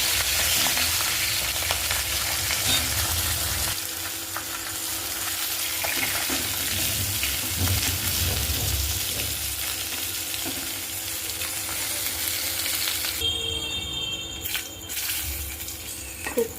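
Steady, loud sizzling of fish heads frying in oil in a pan, a continuous crackling hiss with occasional stirring, ending in a brief clatter.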